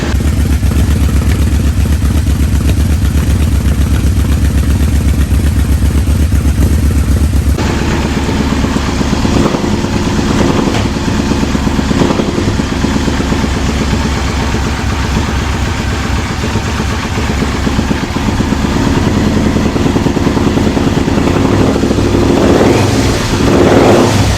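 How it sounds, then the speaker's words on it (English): A cheap muscle motorcycle bought at auction rumbles loudly up close, a deep steady engine throb that changes character partway through, with clattering idle texture and a few rises in revs. "This bike has just such an amazing rumble to it"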